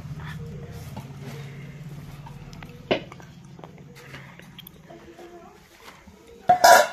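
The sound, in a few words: cooking pot being taken down and handled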